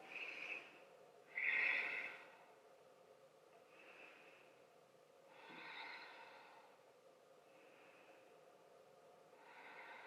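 Slow, audible breaths during a hatha yoga floor pose, several soft inhales and exhales spaced a few seconds apart, faint and close with airy hiss.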